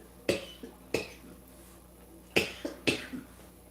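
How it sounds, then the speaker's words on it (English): A few short, sharp coughs come in two pairs separated by a brief pause. Each is close and dry, heard against a quiet room. "if I cough for much longer, I will have to get off"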